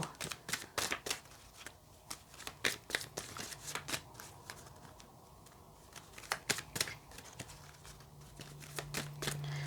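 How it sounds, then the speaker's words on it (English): A large, oversized deck of cards is shuffled close by in quick, irregular bursts of riffling and slapping, with brief pauses between, and no one speaks. "This deck is so awkward for me to shuffle in on camera"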